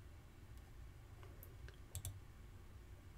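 A few faint, sharp computer mouse clicks on a web page, spaced irregularly over a quiet room hum, with two close clicks near the middle.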